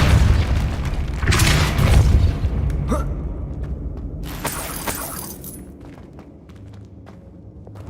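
A Depulso spell cast in Hogwarts Legacy lands as a loud booming blast with a shattering crash, followed by scattered debris clatter and a fading rumble.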